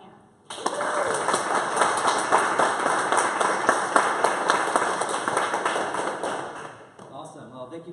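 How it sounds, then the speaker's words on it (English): Audience applause breaks out at an evening tech meetup as a founder and CEO is introduced, a dense, steady wash of many hands clapping from start to near the end before tapering off. "So let's give a round of applause to Alan Ham."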